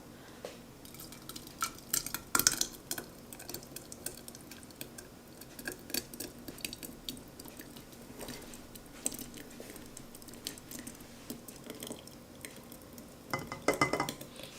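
Thick homemade strawberry jam is poured into a jar, with soft scraping, dripping and light clinks of utensils against glass and pot, quiet and close, in scattered bursts.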